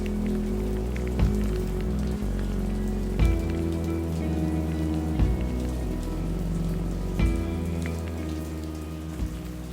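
Rain from a Southern California rainstorm patters steadily on a surface nearby, a dense even hiss broken by occasional louder drips and taps, with no voices.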